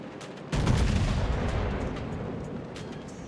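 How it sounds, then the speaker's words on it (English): A heavy naval gun salvo booming in the warship battle game World of Warships, a sudden loud blast that rumbles and slowly decays, with faint sharper reports trailing behind. "All stations, concentrate fire on the target."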